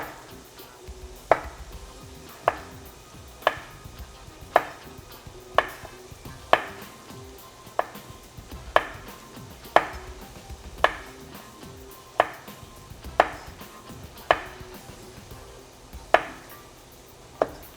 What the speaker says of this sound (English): And as it gets thicker, you angle your knife more.